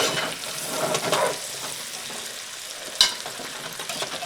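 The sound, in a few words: stirring Dublin coddle in an oiled pot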